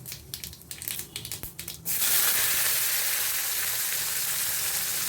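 Chopped onion hits hot oil already holding cumin, fenugreek and mustard seeds in a pan, starting after a short patch of light crackling and turning into a loud, steady, hissing sizzle that lasts to the end.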